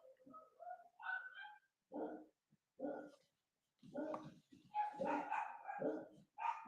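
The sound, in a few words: dogs barking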